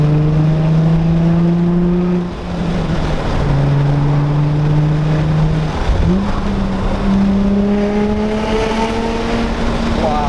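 An Infiniti G35 with resonator and muffler deleted idles and revs loudly up close, a deep steady exhaust rumble that rises in pitch through a couple of throttle blips before settling back.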